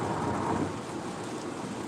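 Steady rain falls outside, a dense, even hiss of drops on surfaces with a low rumble beneath, continuous and fairly loud throughout.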